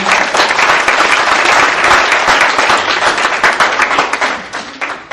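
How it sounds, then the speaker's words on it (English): Audience applause for a performer at a community gathering, dense sustained clapping from a crowd that thins and fades toward the end. "Another round of applause for Tom Carter."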